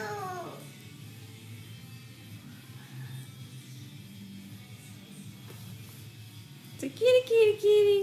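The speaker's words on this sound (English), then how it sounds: "It's a kitty, kitty, kitty." A cat meows a few times, a brief cry at the start and a louder cluster of meows near the end, with a baby and people talking softly in a home setting.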